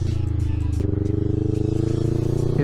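A car engine drones steadily while driving through roundabouts, its pitch jumping upward twice as the gears downshift, with faint background noise.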